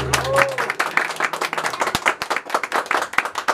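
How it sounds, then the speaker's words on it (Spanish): Clapping at a birthday mariachi performance, a brief burst of close hand claps in an irregular patter that thins out toward the end. "Y ese aplauso, qué bonito."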